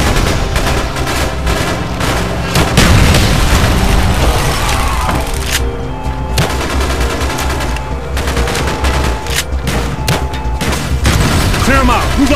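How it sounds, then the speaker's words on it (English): Gunfire and explosions from the Call of Duty Black Ops video game during a street fight: dense rapid automatic bursts, heavy booms and rumbling, loud and nearly constant, with voices shouting orders over the battle. "Bowman, Carlos, lay down covering fire."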